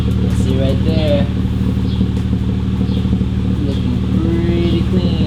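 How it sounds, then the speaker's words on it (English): Straight-piped exhaust on an Acura TL rumbles steadily in a garage, a deep droning idle with slight rises in pitch that carries on under someone talking. "I don't know if you heard some of the exhaust tones coming into the garage"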